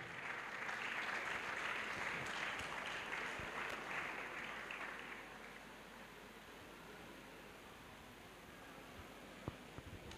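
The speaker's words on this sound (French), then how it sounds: "A clap for Jesus Christ." A large crowd at an evangelistic crusade gives a sustained round of applause for Jesus Christ, a dense wash of clapping that gradually eases into fainter, scattered claps.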